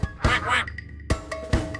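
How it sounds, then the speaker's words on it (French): A duck quacking in a French children's nursery song for babies, several short, sharp quacks in quick succession, close and clear, mixed in with singing. "Le petit canard, canard,"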